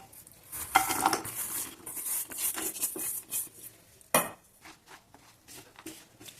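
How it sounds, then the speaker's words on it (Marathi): A utensil scrapes and clinks against a pan as jaggery is stirred into hot ghee, with irregular near scraping strokes and one sharper knock partway through, no talking. "गुळ आपण तुपामध्ये टाकून घेऊया"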